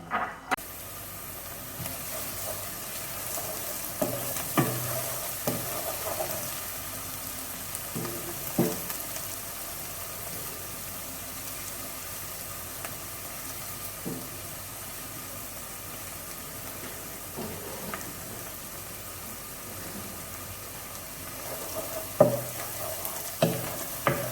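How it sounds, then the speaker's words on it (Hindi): Chopped onion fries steadily in a pan for chicken biryani, a continuous soft sizzle broken by occasional scraping and stirring clicks, close and moderately quiet with no talking. "और अब मैं इसमें ये चॉप की हुई एक अदद प्याज ऐड कर रही हूँ। इसे लाइट ब्राउन होने तक पकाना है।"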